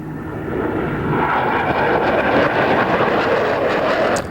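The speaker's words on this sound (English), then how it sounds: "There are also other jets which not only fly fast, they have to fly very close together." Navy Blue Angels jets flying past in close formation, a broad roaring engine rush that swells and holds steady, loud and continuous with no talk over it.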